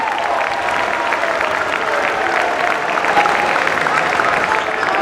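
High school basketball fans and bench players at a Quincy versus Hopkinton boys game give a steady, full round of applause that holds evenly throughout, loud and close with crowd murmur underneath.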